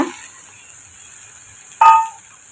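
A steady, soft sizzle of plantain sautéing in a pan, with a brief scrape or stir partway through.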